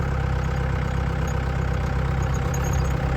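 Desert safari vehicle engine running in the Jaisalmer dunes, a loud steady low rumble close up, with no voices over it.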